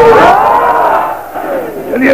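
A crowd at a 1995 Shia majlis roars a slogan back in loud unison, a sustained chorus of many voices swelling and dipping over about two seconds before rising again.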